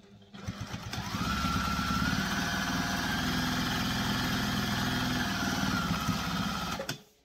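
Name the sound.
sewing machine basting along a bag's edge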